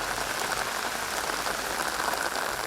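Steady rain falls across open farmland, a dense, even hiss of drops with no pauses and no voices.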